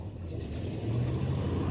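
Cold start of a 1984 Chevrolet pickup truck engine: a steady, moderately loud low mechanical rumble that firms up partway through, with no talking over it.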